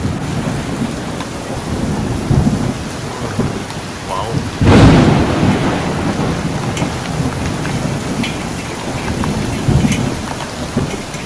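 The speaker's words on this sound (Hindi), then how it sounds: "थोड़ी देर बाद ही बारिश स्टार्ट हुई थी" Steady heavy rain pours down through a thunderstorm, with a loud thunder crack near the middle rolling off into rumbles, all without any voices.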